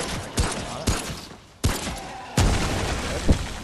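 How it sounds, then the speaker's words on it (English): Handgun shots ring out in the video game Remnant: From the Ashes as a handful of sharp, loud cracks spaced irregularly over a continuous rumbling game background. "I'm just going to shoot them with the handgun."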